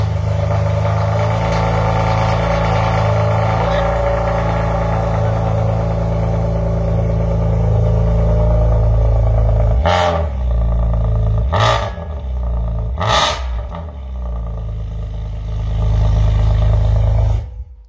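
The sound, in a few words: Alfa Romeo 147 GTAm engine first start, clacking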